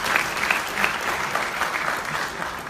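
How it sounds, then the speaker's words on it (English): Loud, dense applause from a workshop audience in Lisbon, a continuous crowd clapping with slight swells, close and full throughout. "Give them a big round of applause"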